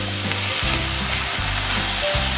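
Tofu stir-frying in a pan with capsicum and onion, a steady loud sizzle broken by several scraping stirs, with no talk.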